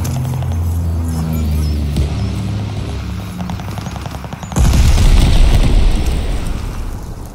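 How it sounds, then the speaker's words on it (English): Bombing run explosions in Call of Duty: Vanguard on the Eagle's Nest map, a loud deep rumbling blast arriving midway and rolling on over earlier gunfire and battlefield noise. "Called a bombing run. Incoming."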